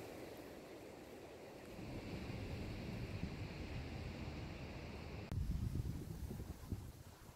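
Steady wind blowing upstream beside a deep river, buffeting the microphone in a low rumble that strengthens partway through and grows gustier near the end.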